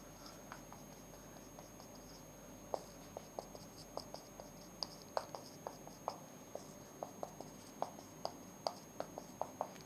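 Marker or chalk tapping and scratching on a board during an organic chemistry lesson, a long series of short, sharp, fairly quiet ticks in an irregular rhythm over a steady hum.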